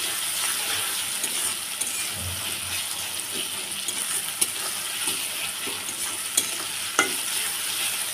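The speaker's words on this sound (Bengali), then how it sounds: "পেঁয়াজের সঙ্গে মশলাটাকে ভেজে নেব।" Whole spices and chopped onion frying in a pan for beef lung bhuna: a dense, close, continuous sizzle with scattered clinks and a few sharp spatula taps on the pan, no talk.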